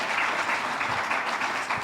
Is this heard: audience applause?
yes